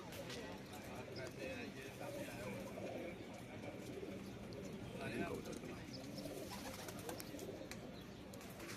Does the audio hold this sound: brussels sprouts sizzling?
no